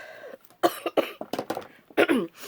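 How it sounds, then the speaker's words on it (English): A person coughs repeatedly in a close, harsh burst of several coughs, ending with a throat-clearing rasp. "I just had some chocolate and it makes me cough"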